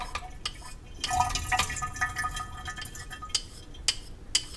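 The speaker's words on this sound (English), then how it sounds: "let me turn the water off" Running tap water at a sink where a Japanese natural sharpening stone is being checked, heard as splashing and dripping with scattered sharp clinks and drops, moderately close and without voices.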